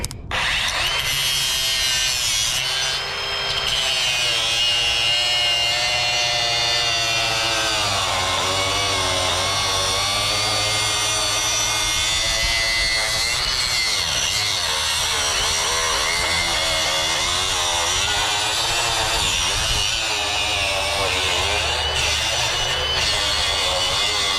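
Battery-powered cutting tool slicing through steel entry gates outdoors, a loud continuous grinding whine that holds steady throughout with shifting metallic overtones as the cut progresses.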